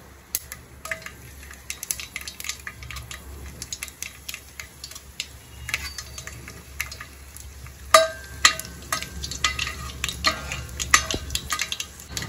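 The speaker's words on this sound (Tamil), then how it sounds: "கடுகு பொரிஞ்சிருச்சு" Mustard seeds pop and crackle in hot oil, sharp irregular snaps over a soft sizzle, growing busier toward the end, with occasional utensil clinks.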